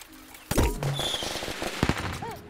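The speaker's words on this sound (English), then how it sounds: "Setting off all the fireworks." Fireworks in Plants vs Zombies: Garden Warfare 2, a sudden loud burst followed by a rapid crackling string of pops and bangs, with bright whistles and game effects mixed in.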